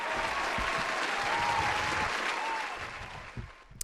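A round of applause from a live audience, a dense, even clatter of many hands holding steady before tapering off near the end, where a few scattered claps and faint voices remain.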